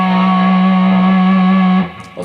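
Heavily distorted electric guitar holds a sustained, buzzing note through effects, ringing steadily before cutting off abruptly near the end, closing a solo phrase from a song.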